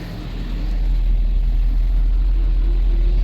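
A 1988 Toyota dually flatbed truck, fitted with a Honda muffler, idles with a loud, steady low rumble close by, holding an even drone throughout with no voices.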